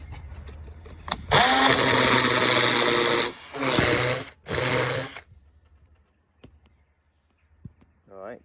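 Hammer drill fitted with a rock drill bit boring into masonry, roaring in two loud bursts with a short pause between and a brief final push, then quiet with a few faint knocks.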